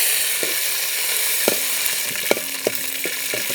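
Cashews and raisins fry in ghee with a steady hiss and sizzle, broken by several sharp taps and scrapes of a spoon stirring the pan.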